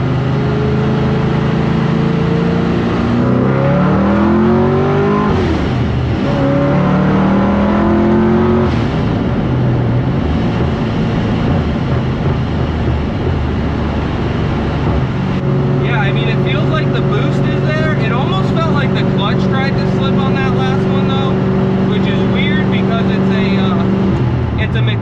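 A Pro-Charged supercharged Pontiac GTO's engine pulls hard under acceleration, its tone sweeping upward through gear changes before settling into a loud sustained drone with supercharger whine; a voice talks over the engine throughout.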